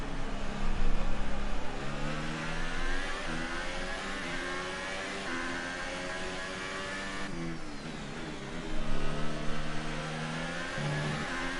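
Several F1 2018 race cars run wheel to wheel in testing at Circuit de Catalunya, their high-pitched engines screaming and shifting pitch in steady overlapping whines, loud and close throughout with a brief surge near the end.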